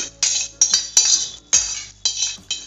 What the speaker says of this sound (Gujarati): તો આની અંદર આપણે એક સરખો ચમચો ફેરવી દઈશું